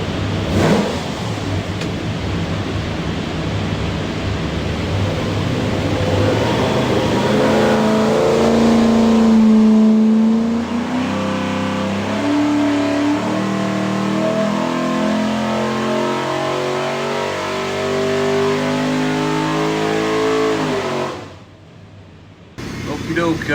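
Stacked 427 Ford engine with Borla injection and a GT40 front end revving hard on a dyno, a loud roar climbing steadily in pitch through a long pull before cutting off abruptly, with voices faintly in the background.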